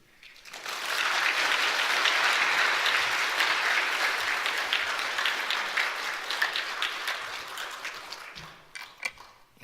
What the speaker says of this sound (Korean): 우리 이은선 목사님 나오실 때 우리 환영하는 의미로 큰 박수 드리겠습니다.